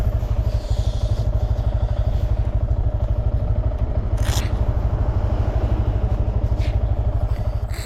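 A motorcycle idles while stopped on the street, its engine giving a loud, close, steady rapid pulse throughout, with a few brief scraping or rustling noises on top.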